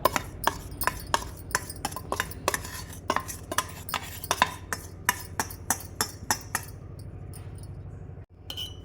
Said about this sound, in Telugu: నేనైతే స్పూన్తో అలా కలిపేసాను కదా